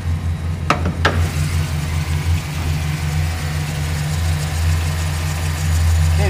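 A Chevrolet Silverado pickup with a 4.8 liter Vortec V8 idles steadily, a continuous low engine hum heard close and fairly loud, with a couple of brief clicks near the start.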